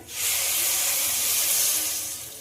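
Water poured into a hot pan of cooked-down masoor lentil and potato curry, giving a loud, steady steaming hiss that rises quickly and holds before easing slightly.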